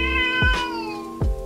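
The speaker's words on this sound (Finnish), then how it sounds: "Maailman kallein kotikissa." A domestic cat meows close and clearly, two or three short rising-falling calls in quick succession with no talking over them.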